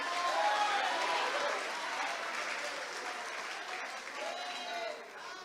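Church congregation applauding during a Portuguese-language sermon, a broad wash of clapping and crowd noise that stays steady and fairly distant, with voices mixed in.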